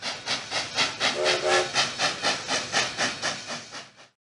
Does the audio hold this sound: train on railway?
yes